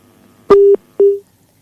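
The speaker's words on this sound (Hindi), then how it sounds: "और ये आलिया का फ़ोन कट गया लग रहा है किसी वजह से" A telephone call cuts off during a live call-in show, leaving a sharp click and then two short loud steady beeps of a disconnect tone.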